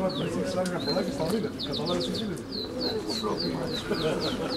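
Pigeons from a Greek racing and tumbler pigeon loft, with bird calls and coos heard throughout under continuous nearby talking.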